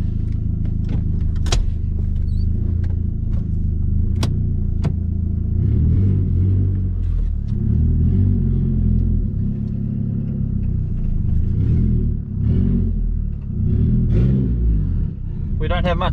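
Car engine idling and revving as it drives on a street, a steady low rumble with a few sharp clicks, under near continuous talk from occupants inside the car.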